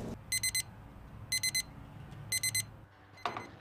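A meat thermometer's alarm sounds off over a brisket being smoked, three bursts of rapid shrill electronic beeps spaced about a second apart, loud and close, followed by a short clatter.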